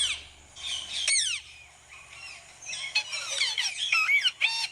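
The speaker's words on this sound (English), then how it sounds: "We are going to attempt to play a YouTube video of a parrot I found." A green parrot squawks and chirps in loud, rapid, bending calls, played back from a recording, with a short pause before a dense run of shrill squawks near the mic.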